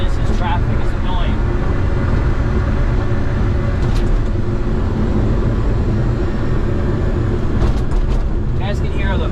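Suzuki Carry kei truck with a 5-speed driving over rough New York city streets, a steady loud engine and road rumble inside the cab with occasional jolts from bumps.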